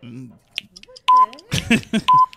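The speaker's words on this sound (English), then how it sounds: "Then you get the wrong buzzer" A wrong-answer buzzer on a live radio quiz show, heard as two loud, steady electronic tones separated by speech, with a short beep earlier amid talk.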